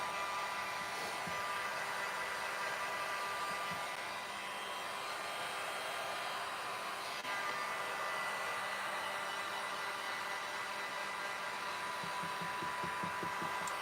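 Hair dryer blowing steadily on a craft project for pumpkins, a loud continuous close whoosh with a constant motor whine and no talking.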